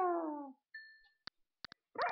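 Minecraft dogs (wolves) in-game: a descending whimper or howl, then a thin whine, followed by several short sharp yips spaced apart and a final growly bark, clean and close with silent gaps.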